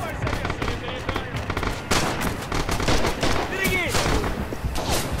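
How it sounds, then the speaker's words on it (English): Rapid gunfire and artillery blasts in the World War II shooter Red Orchestra 2, dense crackling volleys with heavy thumps, a busy battlefield din over which a voice speaks. "Artillery fire."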